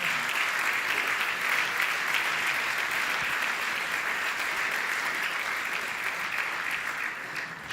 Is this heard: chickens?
no